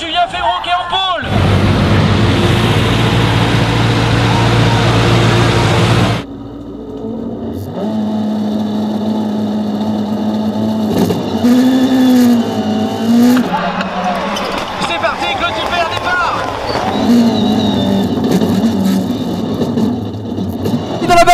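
Supercar race cars roar past in a final at Dreux, with a loud engine wash at the start, then rising and falling engine notes, revving and tyre noise, under a commentator's voice.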